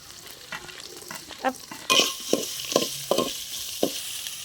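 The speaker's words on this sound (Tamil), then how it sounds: "வேர்க்கடலையை சேர்த்துக்கிடுவோம்" Garlic, tomato and peanuts sautéed in a pan, a soft sizzle with several close spoon scrapes and stirring strokes that grow louder midway, no one talking.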